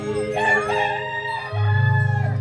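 A rooster crows once in a devotional folk remix song, a loud drawn-out rising and falling call, followed by a steady low musical drone.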